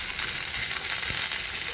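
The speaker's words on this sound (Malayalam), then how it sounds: "നന്നായിട്ടൊന്ന് ഇളക്കി കൊടുക്കാം ജിഞ്ചർ ഗാർലിക് പേസ്റ്റ്." Ginger garlic paste fries loudly in a pan for an egg masala, a dense, close hiss with faint stirring movement and no voices.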